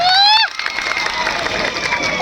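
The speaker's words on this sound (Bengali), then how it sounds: "নিজেদের জন্য একটা জোরে হাততালি হয়ে যাক তো" A large student crowd at a 25th annual college fest at Chandraketugarh Sahidullah Smriti Mahavidyalaya erupts into loud, sustained cheering and clapping, right after a brief shrill whistle-like tone.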